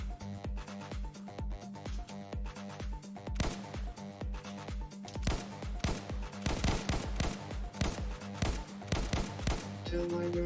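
Rapid gunfire spammed in the video game Testing Grounds, a dense, steady barrage of shots over a constant electronic backdrop that grows busier and louder toward the end.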